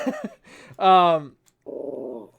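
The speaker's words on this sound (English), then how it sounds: "Rags, stop barking in the mic." A dog barks and growls close into a microphone, a sharp whining bark followed after a short pause by a low, rumbling growl, with a voice faintly heard at the start.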